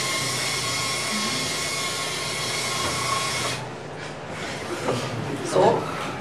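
A small test car runs along a homemade rail track fitted with sensors, making a loud, steady rolling whir for several seconds that cuts off abruptly, followed by softer knocks and clatter.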